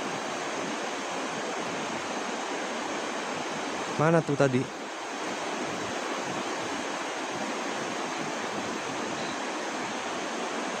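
Steady, broadband rush of the flowing Cisadane river near a bamboo-lined bank, loud and continuous, with a man's brief spoken question cutting in partway through.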